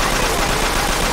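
A short, loud burst of rapid gunfire from the shooting ability in the video game Persona 5 Royal, dense and continuous for about a second with no voices.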